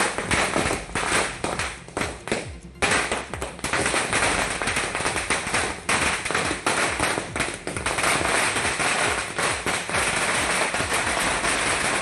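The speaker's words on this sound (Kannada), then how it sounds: "ಕಾರ್ಯಕರ್ತರು, ನಾಯಕರು ಪಟಾಕಿ ಸಿಡಿಸಿ ಸಂಭ್ರಮಿಸಿದರು" Firecrackers burst in a dense, rapid string as party workers and leaders celebrate outdoors, with loud crackling pops running continuously throughout and no clear talk.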